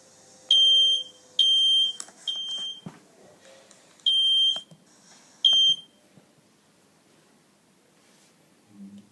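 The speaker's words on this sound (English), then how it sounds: "you can hear the fire alarm sounds ringing in your home on your phone" Smoke or fire alarm sounding in a home, piercing electronic beeps in bursts, about five long tones with short gaps, fairly loud, ending in quiet room noise.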